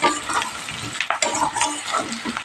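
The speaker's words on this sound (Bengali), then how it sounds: "হলুদ গুঁড়োটা দিয়ে আবার নাড়তে হবে" Spoon stirring turmeric powder into onions frying in a pan, with scraping strokes against the pan over a soft sizzle, close and moderately quiet.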